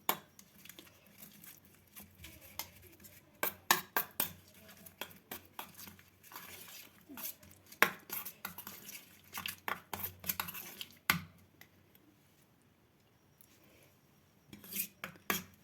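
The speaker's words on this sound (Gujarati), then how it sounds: "આ રીતે પહેલાં મસાલાને તૈયાર કરી લેવાનું અને સારી રીતે હલાવી લેવાનું" Spice paste is stirred in a bowl with a spoon, making soft, irregular scrapes and light clinks in bursts over several seconds, quiet and close, with a brief lull before a final few strokes.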